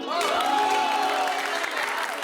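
An audience breaks into applause with some crowd noise, a dense burst of clapping that swells quickly and then tapers slightly, with a voice carrying over it.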